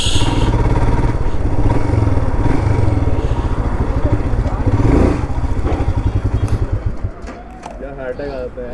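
Motorcycles ride on a mountain road near Shimla in India, their engines droning steadily and loudly close by with clattering road noise throughout, then easing off near the end.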